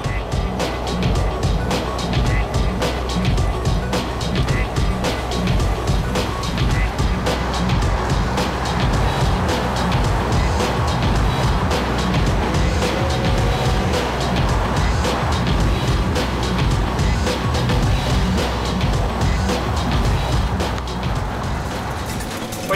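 A Volvo C303 military off-road vehicle with a carburetted engine drives over rough terrain, its engine rumbling loudly and steadily for the whole stretch, with bumps and rattles of the body over the uneven ground.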